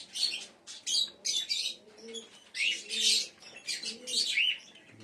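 Pigeons in a breeding loft coo in soft repeated throaty bursts, close by, with some chirping and a brief flutter mixed in and no talking.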